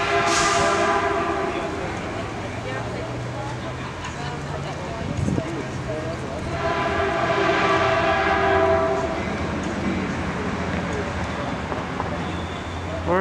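Caltrain commuter train running, with a loud horn blast near the start and again midway over steady rumbling and rail noise heard from on board.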